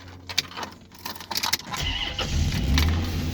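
Keys jingle near a car's ignition, then the engine cranks briefly and catches, settling into a steady low idle rumble, close and clear with no talking.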